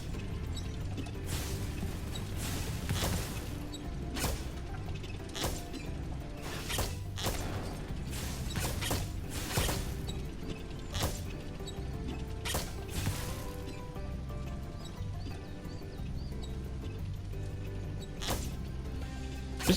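Roller coaster cart mechanism in Spyro 2: Ripto's Rage, with repeated clanks, creaks and ratcheting clicks at an uneven rhythm over a steady rumble of game sound, fairly faint throughout.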